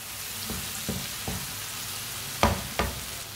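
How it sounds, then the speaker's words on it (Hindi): Spices cooking in hot oil for a dal karela dish, a low constant sizzle with five spatula scrapes against the pan, the last two louder and near. "मसालों को थोड़ा सा मैंने पका लिया है।"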